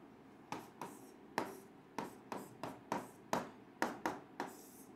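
Marker or chalk strokes writing physics equations on a board during a lecture: a dozen quick, sharp scratching taps in an irregular rhythm, close and fairly quiet, with no voice over them.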